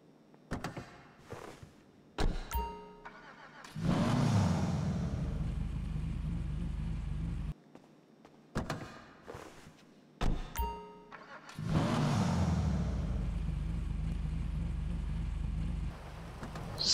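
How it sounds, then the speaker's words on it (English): Two Karin classic cars in a video game start up one after the other, each with door clicks and chimes, a cranking starter and an engine that catches into a steady low idle. "let's listen to the engine startup of this vehicle and the other Karin Classic vehicle we have in-game"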